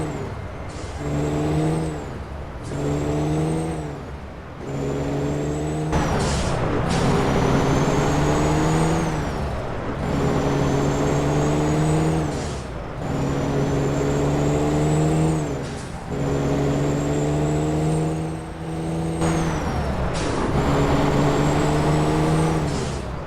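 A truck driving in American Truck Simulator, its engine repeatedly climbing through the revs then dropping at each gear shift, with short hissing air-brake-like bursts between, loud and close with no talk.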